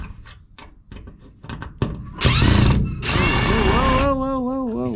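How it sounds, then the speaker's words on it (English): A power drill backs screws out of a screen door closer: after a few sharp handling clicks, loud bursts of drill whir start and stop, then a sustained run whose motor whine rises and falls near the end. "I'm gonna use a drill for this one. yeah, here's the drill."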